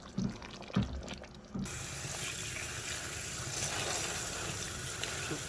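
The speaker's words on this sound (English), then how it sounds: "Wash your spinach very well in your bowl." Water pours and splashes as spinach is washed in a bowl, starting with a few knocks and then settling into a steady close rush of running water.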